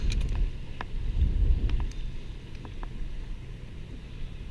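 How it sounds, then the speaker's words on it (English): Strong wind buffets an outdoor microphone as a loud, steady low rumble, surging for the first two seconds and then settling into a continuous roar, with a few faint clicks and taps. "The wind is pretty bad right now."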